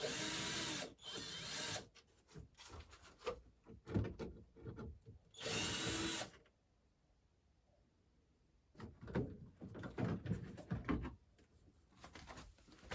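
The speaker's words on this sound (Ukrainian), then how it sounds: "Тут є 4 болта, зараз ми їх відкрутимо." A power tool unscrews bolts from the plastic cover on a Renault Modus during servicing, several loud whirring bursts separated by quiet pauses, close up.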